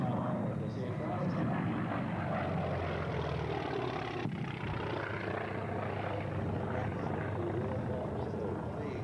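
A T-28 propeller warbird flies at the Warbirds Over Wanaka 2004 airshow in New Zealand, its engine a continuous loud drone, with announcer commentary over it.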